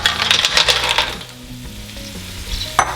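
Clams go into a hot pan where most of the wine has cooked off, setting off a loud bright sizzle with clattering shells that eases into a softer simmering crackle.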